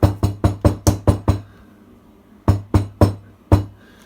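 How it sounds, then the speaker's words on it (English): A glass jar of tomato and fig chutney is knocked down on a hard surface: a quick run of seven sharp thuds, a pause, then four more, close and loud, with no talk. "Give it a knock down."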